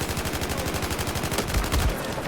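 Fast automatic gunfire in Battlefield 4, a loud rapid burst of regular shots with a heavier thump near the end, with no talking.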